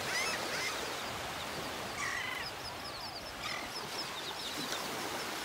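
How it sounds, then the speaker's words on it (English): Terns and gulls calling on a beach in North Naples, Florida: faint, scattered high calls and squawks drift over a steady wash of surf and breeze, with no one speaking. "Terns and gulls sitting out here."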